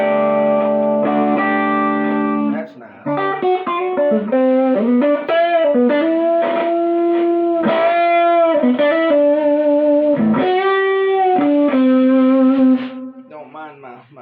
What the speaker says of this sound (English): This is getting a little more overdrive.